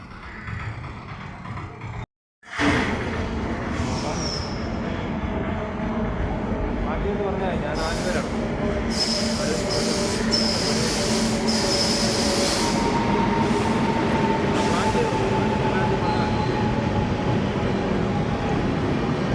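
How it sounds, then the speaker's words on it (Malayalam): A train runs through platform three of Changanassery railway station, a loud, close, continuous rumble of wagons with high wheel squeals rising over it, broken by a brief dropout near the start. "മൂന്നാം നമ്പർ പ്ലാറ്റ്ഫോമിൽ കൂടാണ് ഈ ട്രെയിൻ കടന്നു പോയിക്കൊണ്ടിരിക്കുന്നത്"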